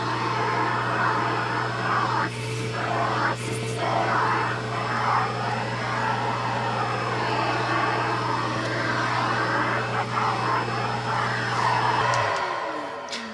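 A Yiktol pet grooming vacuum hums steadily on its lowest setting for several seconds, a constant close motor drone with brief bumps of brushing, then cuts off near the end.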